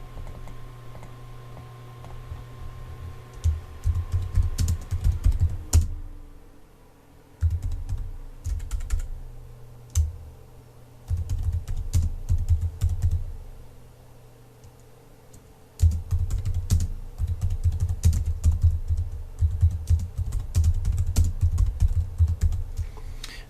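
Steady typing on a computer keyboard, close and clear, with rapid clicks in bursts separated by short pauses over a low background hum.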